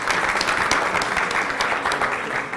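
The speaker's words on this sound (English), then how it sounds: "give Joe a round of applause" An audience at a real estate tech fair gives a presenter a round of applause, loud and close, with many overlapping claps forming a dense, continuous wash.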